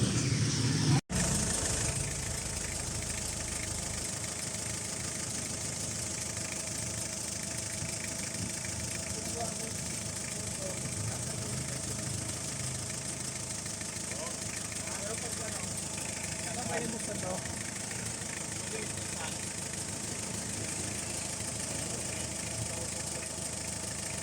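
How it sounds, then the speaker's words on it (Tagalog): A used vehicle engine idles quietly and steadily for the whole stretch after a sharp click at the start, while someone talks over it at a car lot. "papakita natin yung andar ng makina nito."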